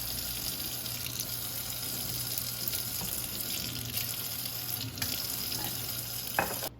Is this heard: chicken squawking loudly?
no